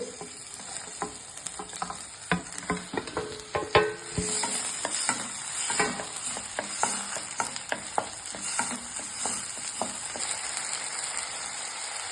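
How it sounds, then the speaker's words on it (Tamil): Chopped onions and tomatoes sizzle in a pan for a pepper chicken dish while a spatula scrapes and stirs in irregular, close-up strokes over a steady frying hiss. "நல்லா கண்ணாடி பதத்துக்கு வதங்கணும்"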